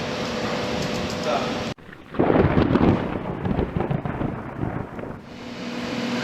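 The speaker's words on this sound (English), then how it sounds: "I guess only Jamie gets the thunder." A loud rolling rumble of thunder swells for about three seconds in the middle, set against steady rainy, windy background noise.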